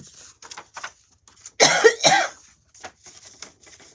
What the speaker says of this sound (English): Gotta still be coughing.